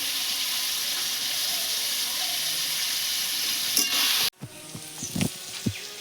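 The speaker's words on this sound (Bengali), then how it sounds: "সবজিতে সামান্য নুন আর হলুদ গুঁড়ো দিয়ে আমি সবজিগুলো সব ভেজে নেবো" Vegetables frying in a pan with salt and turmeric give a steady close sizzle that breaks off sharply near the end, followed by a few clinks and stirring knocks.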